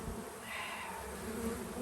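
Honeybees from a newly installed package, with a pile of dead bees nearby, buzz in a soft continuous drone close by, a quiet hum with no voices.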